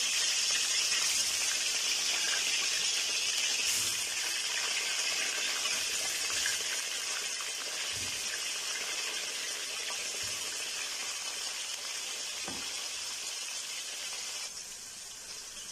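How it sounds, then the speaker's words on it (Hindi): Potatoes fry in hot oil for an Afghani aloo karahi, a steady broad hissing bubble of oil that holds throughout and eases off slightly over time, with a few faint knocks and no talking. "तो अभी हम सारे आलू जो है ऑयल में डालेंगे।"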